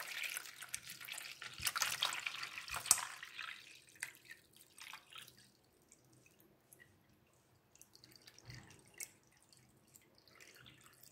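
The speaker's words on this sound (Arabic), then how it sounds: "نضع فيه كمية من الماء الدافئ، ضروري جدا أن الماء يكون دافئ." Warm water is poured into a large, deep bowl for soaking hands and feet, making a splashing pour for the first few seconds, then fading to quiet trickles and scattered drips, all fairly soft.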